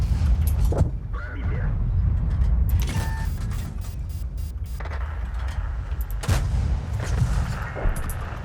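Tank cannon shots in World of Tanks, a few heavy booming reports over a constant engine rumble, with sharp broadband blasts near the start, around three seconds and past six seconds, plus occasional lighter clanks.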